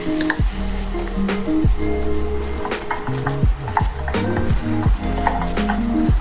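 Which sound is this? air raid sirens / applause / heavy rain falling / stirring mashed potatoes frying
stirring mashed potatoes frying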